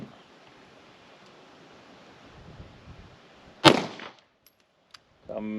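A single sharp gunshot during a pistol shooting drill, loud and close, ringing briefly after a faint, noisy background, followed by a short quiet stretch and a later rustle.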